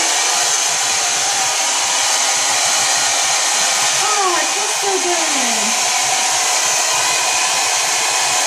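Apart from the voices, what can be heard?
hair dryer running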